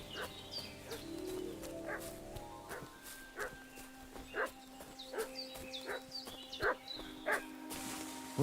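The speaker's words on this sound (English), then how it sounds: "What's that dog making such a fuss about?" A dog in the Kingdom Come Deliverance II game barks repeatedly in short, sharp bursts at a moderate distance. The barks fall in an irregular rhythm over faint ambient farm sounds and a sustained musical tone.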